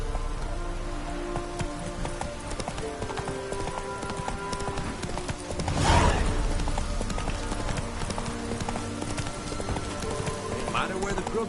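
Horse hooves clip-clop steadily at a trot in The Witcher 3 while rain patters throughout, with game music and a brief louder swell midway; a voice speaks at points.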